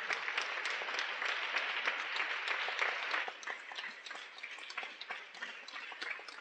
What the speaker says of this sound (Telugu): మనందరం ఆగకుండా 2 నిమిషాలు చప్పట్లు కొడదాం.